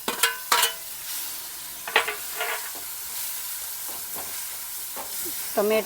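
Tomatoes sizzling in a pan while being stirred for tempering soaked moong: a low steady frying hiss with several sharp spoon scrapes against the pan, near and clear, with no talk.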